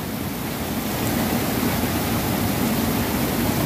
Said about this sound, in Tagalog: Ingay ang tubig.